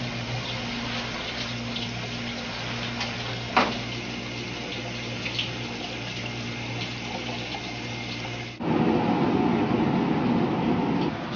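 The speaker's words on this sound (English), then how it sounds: "Soy milk coming out of the bottom here." Soy milk streams from the bottom of a traditional tofu-making machine, a steady liquid pouring and splashing over a low mechanical hum, with the flow growing louder and fuller near the end.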